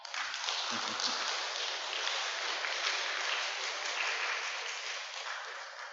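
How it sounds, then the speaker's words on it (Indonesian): A hall of new madrasah students at MTs Negeri 1 Malang clap together in sustained, dense applause that stays steady for the full stretch. "Boleh tepuk tangan anak-anak."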